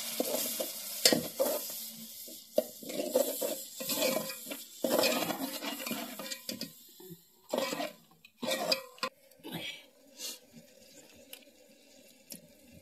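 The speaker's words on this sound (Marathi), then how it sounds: "व्यवस्थित तो मसाला मिक्स करायचा आहे आणि आता टाकलेले कोकम आणि आपला हा जो मसाला होता तो टाकलेला आहे" A spoon stirs masala with kokum in a cooking pot, giving a loose series of scrapes, knocks and soft sizzle that runs fairly steadily before easing into separate strokes. It is close but moderately quiet, with no talk.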